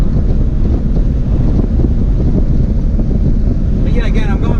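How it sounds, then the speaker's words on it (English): Heavy wind roar through the open windows of a 1994 Honda Acty driving at about 50 mph on a windy day, loud and continuous, with a brief voice near the end. "it's windy, and I have my windows down"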